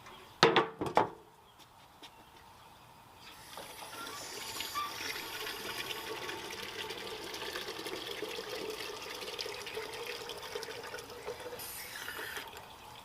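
Leftover liquid fertilizer being poured out in a garden: a few sharp knocks at the start, then a continuous, soft splashing stream that goes on for several seconds, fairly faint and without talk.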